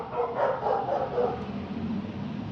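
Two dogs bark repeatedly in the distance outside, faint, muffled yaps spread over a few seconds against a steady low background hum.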